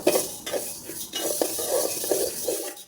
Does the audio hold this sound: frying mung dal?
yes